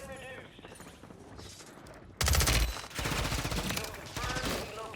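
Gunfight in the video game Warzone, with sustained rapid automatic fire breaking out loudly partway through and continuing in bursts, while a voice talks over it.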